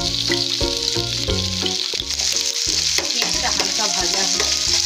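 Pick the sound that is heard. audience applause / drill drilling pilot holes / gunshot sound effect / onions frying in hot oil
onions frying in hot oil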